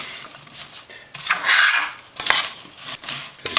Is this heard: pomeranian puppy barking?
no